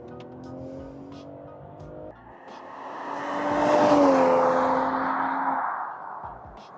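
A BMW M340i xDrive in sport mode accelerates hard, its engine note climbing steadily in pitch and loudness before easing off, heard from inside the car over a faint background hum, with no talking.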